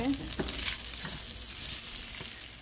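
Beef browning in a pan with its broth cooked off, a soft continuous sizzle with a few stirring scrapes and light clinks, fairly close and otherwise quiet.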